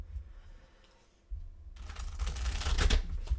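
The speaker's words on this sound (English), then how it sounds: "I'm going to give it a couple more shuffles because this deck is hard to shuffle." Quiet rustling at first, then a louder burst of riffling shuffling of a stiff, hard-to-shuffle tarot card deck with crisp flutter and soft thumps, close up, no talking.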